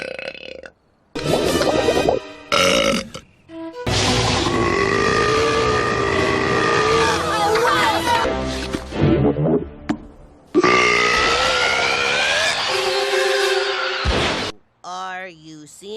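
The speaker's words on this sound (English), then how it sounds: "That was my celebration burp." A cartoon girl lets out several loud, drawn-out burps in short bursts with brief pauses between them, and voices speak around them.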